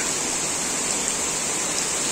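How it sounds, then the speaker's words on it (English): Steady, dense rush of heavy rain in Bengaluru with no break, a constant broadband hiss like a downpour pouring close by, heard from a balcony. "Can you all see? So rainy."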